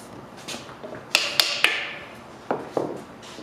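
Metal fan hub sliding back onto a keyed shaft during a fan replacement, a few sharp metallic clicks and taps close by, spaced unevenly over a few seconds with quiet workshop background.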